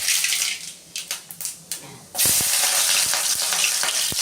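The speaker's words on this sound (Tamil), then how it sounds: "சமையல் எண்ணெய் ஊற்றிடுறோம்." Cooking oil pours into a kadai for Tamil eggplant kara kulambu. First come several short splashy bursts, then a steady, close hiss of liquid running into the pan that continues to the end.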